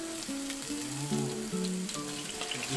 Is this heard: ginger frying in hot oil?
yes